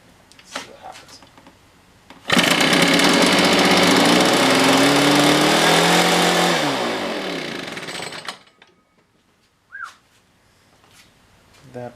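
An Echo PB-500T backpack leaf blower, recently freed from a stuck piston and given a carb clean, roars at full throttle for about six seconds, then winds down. Brief talk comes before and after it.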